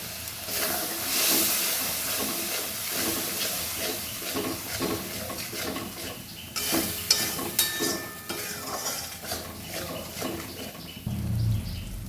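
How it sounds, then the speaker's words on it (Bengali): Spice paste frying in a pan with a little water added, a steady sizzle and hiss with occasional stirring scrapes running throughout at moderate, close volume. "সামান্য দিয়ে দিলাম জল, মশলাটা কষাবো ভালো করে।"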